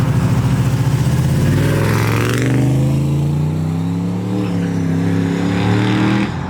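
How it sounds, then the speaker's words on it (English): Modified muscle car revs hard at a car meet, engine pitch climbing and falling in rising sweeps with a whistling turbo spool above it, loud and close throughout. "did y'all hear that turbo spool?"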